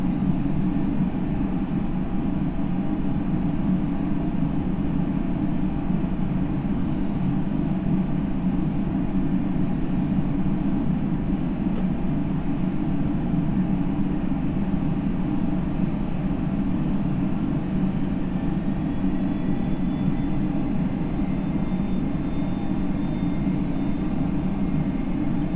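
A simulated FSLabs Airbus A321 taxiing in a flight simulator game, a loud, even, continuous engine drone and rumble that holds steady throughout with no pauses.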